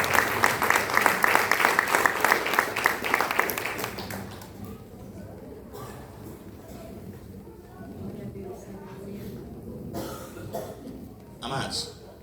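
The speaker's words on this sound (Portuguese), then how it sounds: "dê uma linda salva de palmas para o Senhor Jesus" A church congregation applauds in a dense burst of clapping for about four seconds, which then fades into quiet room murmur, a few coughs and scattered claps.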